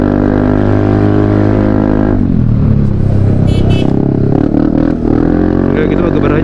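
Yamaha Aerox scooter fitted with a Krace Ultra exhaust, revving hard while climbing a rough, damaged uphill road; a loud, steady engine drone with rising pitch and clattering bursts, close by, with talking over it.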